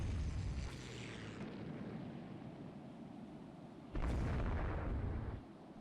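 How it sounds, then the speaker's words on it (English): A torpedo strikes an Amalfi class warship in the naval strategy game Rule the Waves 2, giving a sudden low, heavy boom that rises over a steady rumbling background and sustains for nearly two seconds before cutting off. "we hit the Amalfi class with the torpedo"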